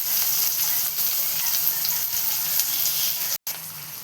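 Onion and tomato fry in a pan for besan pithla, giving a continuous close sizzle and hiss with faint stirring touches, briefly cut by a short gap near the end.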